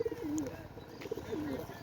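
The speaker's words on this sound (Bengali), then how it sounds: "এটা কি পায়রা আছে ভাই আম্বাসিয়া পায়রা" An Ambassia pigeon coos in two soft, gliding calls a second apart, close by against a steady hum of background noise.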